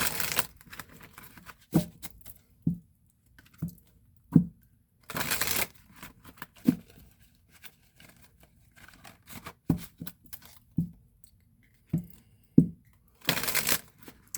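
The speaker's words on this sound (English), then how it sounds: "I really like the way this deck shuffles." A tarot deck is shuffled in quick riffling bursts, with soft taps and pauses between shuffles, close and fairly quiet.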